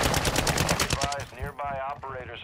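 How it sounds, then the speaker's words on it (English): Rapid, loud gunfire bursts in the Call of Duty DMZ video game on Ashika Island, with a sniper shooting from outside. A quick string of shots is followed by excited talking over further fire. "there's a sniper outside"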